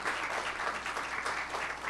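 A church congregation applauds together, a dense, steady wash of clapping filling the space at even strength for the whole stretch, with no voices standing out.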